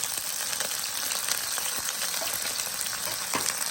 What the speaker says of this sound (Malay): kita goreng ayam tu